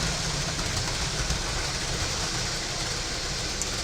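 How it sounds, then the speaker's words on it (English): Trains running on a track, a steady broadband rumble and rattle of wheels and cars that holds an even, fairly loud level the whole time with no voices. "All 3 trains still go."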